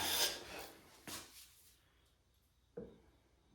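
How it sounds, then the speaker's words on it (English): A hand plane with an indexable carbide blade takes very thin wood shavings in three quick, raspy strokes, each a short scraping swish with quiet between, close by. "we're taking very, very thin shavings with carbide, and it'll do it all day long"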